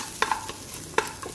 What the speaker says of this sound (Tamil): இந்த நறுக்கி வச்ச பெரிய வெங்காயத்தையும் போட்டு நல்லா வதக்கிக்கலாம்.